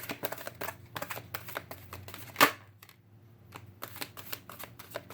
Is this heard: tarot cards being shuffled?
yes